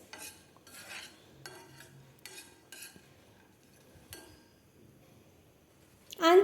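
Cashew nuts being stirred with salt in a pan, a series of brief scraping and clinking strokes of a spoon against metal with quiet gaps between them, ending in a louder clatter.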